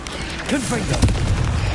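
A Confringo blasting spell bursting in Hogwarts Legacy, one short booming explosion amid clashing combat effects, with a voice calling out during the fight.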